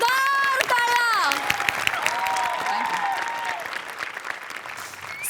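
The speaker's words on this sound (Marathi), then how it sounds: "या कडक परफॉर्मन्ससाठी जोरदार टाळ्या" Studio audience applause and cheering after a comedy sketch on a Marathi comedy show, a dense, loud burst of clapping that slowly fades, with a voice speaking over it at the start.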